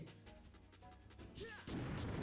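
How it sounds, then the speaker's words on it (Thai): Booming magical blasts go off in the video game Blade Arts, a rapid burst of explosive impacts followed by a louder, fuller crash. "เวทก็ยิงเป็นระเบิดไปเลย"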